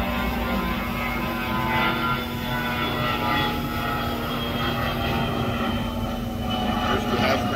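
A propeller or jet airplane drones steadily overhead near an airport, a continuous loud engine roar that holds throughout, over an outdoor griddle setting.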